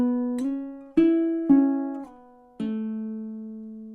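A baritone ukulele plays a short fingerpicked riff, four clear plucked notes ringing out in a steady rhythm, close and solo with no voice.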